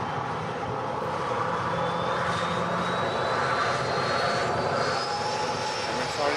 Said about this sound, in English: the biggest passenger aircraft on the planet